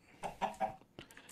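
A few quick, clipped chicken clucks from a Minecraft game in a short burst, close and clear, followed by fainter chirpy sounds.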